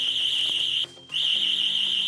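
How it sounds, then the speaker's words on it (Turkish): A burglar alarm going off after a lock is broken, a loud piercing continuous electronic tone that cuts out briefly and starts again, close and alone. "Alarm çalmaya başladı."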